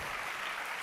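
A church congregation claps loudly together in praise during a Telugu Christian sermon, a dense, steady burst of many hands lasting under a second.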